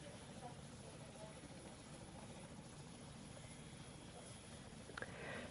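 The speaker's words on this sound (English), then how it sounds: "the UH-60 Black Hawk is a 4-blade, twin-engine, medium-lift utility helicopter manufactured by Sikorsky" A Sikorsky UH-60 Black Hawk, a four-blade twin-engine utility helicopter in the PTFS flight game, drones steadily with a low, continuous rotor and engine hum, fairly faint and distant, while a voice talks over it.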